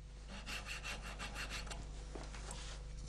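Hand saw and files working the wood of a violin scroll, a steady run of rhythmic rasping strokes, close and continuous, with no talk.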